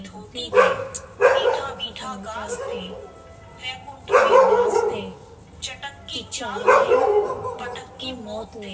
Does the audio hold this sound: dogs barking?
yes